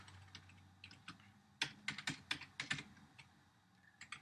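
Quiet, fairly close keystrokes on a computer keyboard as code is entered, arriving in a short irregular burst of clicks over a low background hum.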